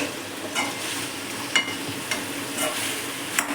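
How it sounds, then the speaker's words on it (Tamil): Quail meat sizzles steadily in a hot pan for pepper fry, with occasional scraping stirs of a spatula breaking through the continuous frying hiss. "இந்த தண்ணி வத்துற அளவுக்கு நல்லா வதக்கிக்கிறணும்"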